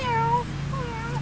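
A cat meows twice close by on a homestead, two drawn-out mews separated by a short pause over a low steady hum.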